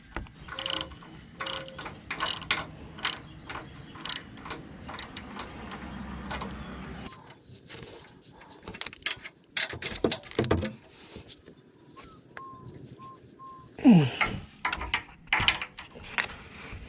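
A hand ratchet wrench tightens tow hook bolts on a Toyota Tacoma, close up. It makes rapid bursts of sharp clicking with short pauses between strokes, plus a few metallic clinks.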